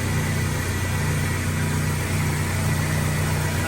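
Toyota Tacoma engine running after a thermostat replacement, a steady, close idle hum with constant low rumble and vibration, no speech.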